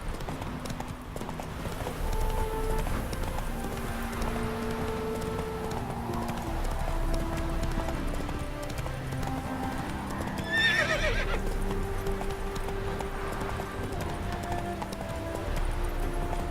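The horse Roach in The Witcher 3 clip-clops along at a steady galloping rhythm, with a sharp whinny around two-thirds through over game music.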